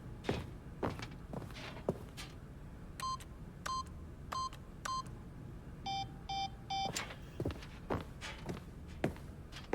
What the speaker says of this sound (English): He took the bucket over to the keypad and began absolutely slamming on the number 3 over and over